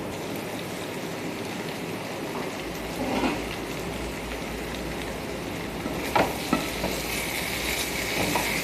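Capsicum and potato bhaji sizzling in an uncovered pan after cooking on low heat, a steady close hiss like light rain with a few faint utensil taps toward the end.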